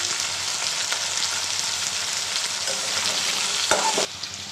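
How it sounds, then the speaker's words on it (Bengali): Potatoes frying in hot oil in a pan, a loud steady close sizzle throughout, broken near the end by a couple of stirring knocks before the hiss drops slightly. "আলুটা একটু শক্ত সবজি, একটু ভেজে নিই"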